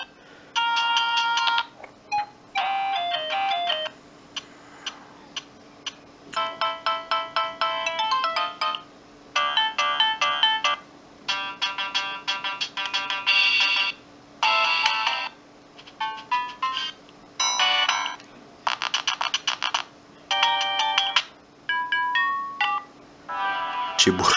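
A string of old Siemens C65 mobile phone ringtone melodies plays one after another, bright beeping polyphonic tunes in short bursts with brief gaps between them.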